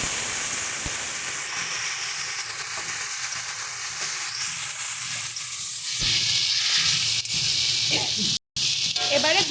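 Spiced eggplant sizzles and crackles in a pan. Partway through, a little water goes in and the hiss swells into a louder, harsher surge with a brief dropout, staying close and continuous.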